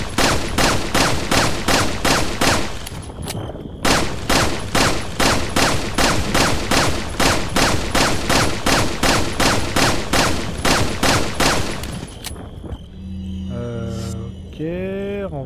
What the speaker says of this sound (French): Quelques tirs vont suffire.